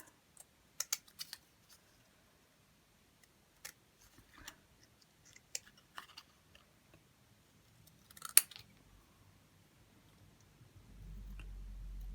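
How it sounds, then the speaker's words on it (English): Scissors cutting out card pieces for a craft project, sparse close snips and paper rustles with quiet gaps between, then a low hum rising at the end. "Okay, so I'm just going to cut these out."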